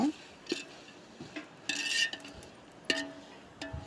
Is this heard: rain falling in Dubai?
no